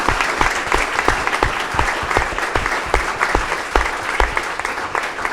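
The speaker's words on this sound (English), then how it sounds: "Big round of applause." Steady applause from an audience after a panel session on professional women's sport, a dense, continuous patter of many hands clapping at close range with no talk over it.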